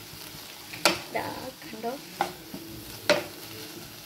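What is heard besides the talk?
stirring tomatoes in a pan for paneer butter masala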